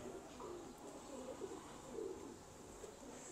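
Low soft cooing of high-flying pigeons kept by a pigeon fancier, a steady murmur of calls repeating through the clip with faint chirps above, no voices.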